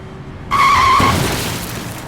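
A car skids on a busy city street at midday, a sharp tire squeal lasting about half a second before it brakes to a sudden stop, loud and close, followed by lingering road noise.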